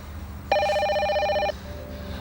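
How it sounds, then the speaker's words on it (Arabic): A telephone rings once indoors, a single electronic bell burst lasting about a second that stands out clearly over a quiet room background, with no talk. "بابا خد التليفون ورد عليه جوه"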